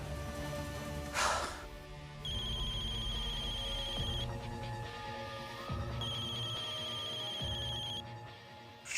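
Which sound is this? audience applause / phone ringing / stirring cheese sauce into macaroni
phone ringing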